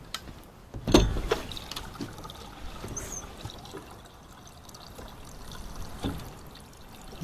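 Liquid pours steadily into a freshly repaired line on a vintage Jeep, a continuous trickling fill with a louder splash near the start, heard close up with no one talking.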